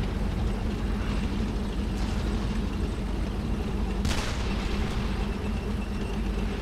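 Gunfire and battle noise in the World War II shooter Brothers in Arms: Hell's Highway: a dense, steady rumble of combat with a sharp shot or blast cracking out partway through, and no talk.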